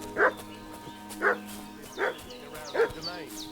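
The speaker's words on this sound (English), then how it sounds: "What's that dog making such a fuss about?" A dog barks in the Kingdom Come: Deliverance 2 video game, four short, evenly spaced barks at a middling distance, with birds chirping faintly in the background.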